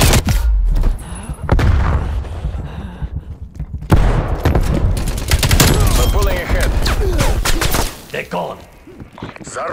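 Semtex grenade blast and gunfire in a team deathmatch of Call of Duty: Black Ops Cold War, with loud booms and rapid automatic fire, dense and near, sometimes under voices shouting.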